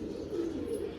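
Cooing of a pigeon offered in a sale of pigeons, a soft, steady low murmur running continuously through the short clip, close and moderately loud with no other sounds.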